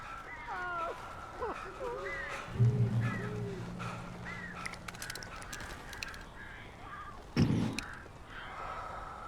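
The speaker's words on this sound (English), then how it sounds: "These birds are weird." Crows caw repeatedly in Alan Wake, with a series of harsh calls up close. A voice speaks over them and there is a sharp burst near the end.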